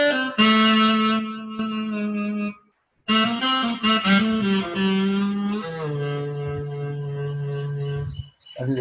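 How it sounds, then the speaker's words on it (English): A synthesizer plays a saxophone-like lead melody with sustained, reedy notes and a short pause partway through, loud and close with no talking. "That is the sound of the saxophone on the synthesizer."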